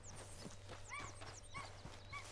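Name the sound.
wild horses in video game Red Dead Redemption 2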